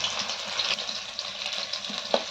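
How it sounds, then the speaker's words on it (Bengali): Stuffed pointed gourds fry in mustard oil over a low flame, making a soft, continuous sizzle with a few brief crackles. "একদম ধিমে আঁচে এগুলো ভাজবো"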